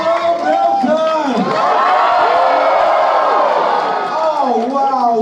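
A large crowd cheers and whoops at a political rally in a packed room in Milton, Ontario, a loud, steady roar that continues with a voice over it.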